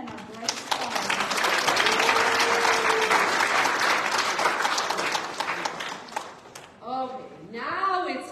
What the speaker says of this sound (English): How about a round of applause for our wise men and our bright stars?